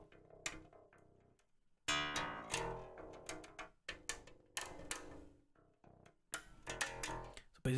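Electric bass played through a Line6 Helix with a 550 Hz low-cut filter, leaving thin, trebly overtones without the low fundamentals; several plucked phrases and sustained notes separated by short pauses, clean and alone.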